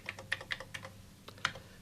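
A computer keyboard is typed on to chat with ELIZA, an early conversational program, giving a run of close, crisp, irregular keystrokes with no voices.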